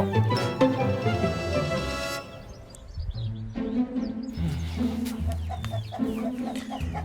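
Chickens cluck steadily on a farm, their calls layered over dense background sound and music throughout, with no clear speech.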